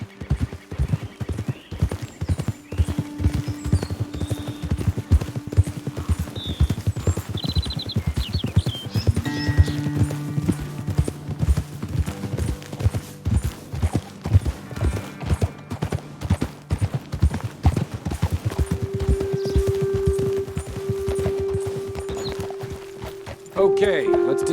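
Horses walk along a trail in the video game Red Dead Redemption 2, a steady clip-clop of hooves running throughout with an occasional whinny, under talk between riders.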